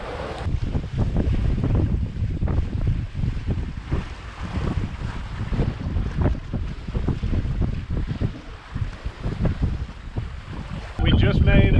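A sailboat runs fast under brisk wind, with heavy gusting wind buffeting the microphone over rushing water and waves in a continuous, rough roar, a sharper noise breaking in near the end.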